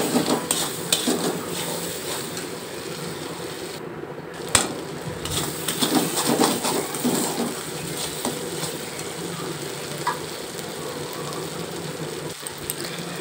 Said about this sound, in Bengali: দিয়ে দিলাম 1/2 চামচ পরিমাণের লঙ্কার গুঁড়ো আর 1/2 চামচ পরিমাণে হলুদের গুঁড়া, দিয়ে কিছু সময় আবারও কষিয়ে নেব